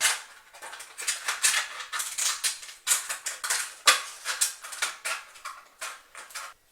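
A Coke can and a plastic bottle are cut in half on a newspaper-covered desk, producing a rapid, irregular series of crisp snipping and crunching bursts, close and continuous.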